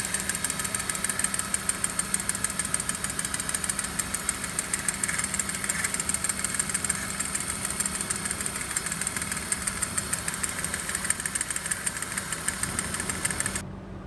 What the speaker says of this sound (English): I want you to see how this is not turning and it's making like a clicking noise